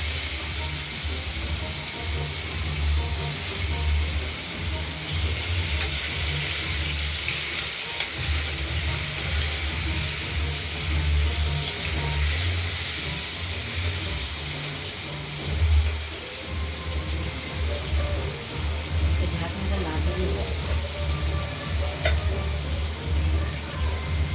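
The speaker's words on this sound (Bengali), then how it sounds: "এবার মাছের পিসগুলো আমরা ভেজে নিচ্ছি।" Pieces of katla fish fry in hot salted oil for a fish curry, a loud continuous close sizzle with crackles and occasional stirring clatter running steadily throughout.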